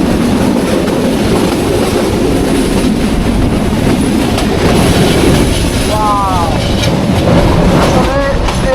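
A Parabat Express passenger train runs on the rails toward Sylhet, heard from inside as a loud, continuous rumble with wheel noise and brief squeals of the wheels near the end. Voices talk faintly beneath it.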